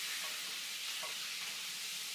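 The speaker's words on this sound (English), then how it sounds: "you're deglazing the pan at a pretty high heat, which means you're going to scrape all the little bits off the bottom" A pan being deglazed over fairly high heat, just above medium, with liquid sizzling and a utensil scraping browned bits from the bottom, from a chicken piccata preparation; a soft, steady hiss with faint scrapes and no talking.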